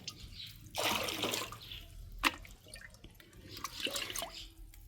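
Water poured off soaked lime splashes and trickles in two short bursts, with a clear drip between them, close by and fairly quiet.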